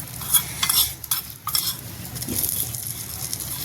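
A spoon stirs kadhi made from buttermilk with pakoras in a cooking pot, scraping and clinking against the metal in short, close strokes. A soft sizzle sits underneath as the curry is mixed.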